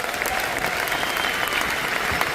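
Dense, steady applause from a large seated audience at a corporate event, continuous and fairly loud for the whole short stretch.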